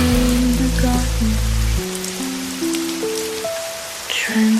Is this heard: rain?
yes